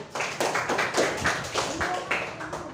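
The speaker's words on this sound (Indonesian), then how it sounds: "Tepuk tangan dulu untuk kelompok 1." A classroom group in an Indonesian teaching-practice lesson claps for group 1, a short burst of scattered, uneven hand claps from a small class, close and moderately loud, with faint voices mixed in.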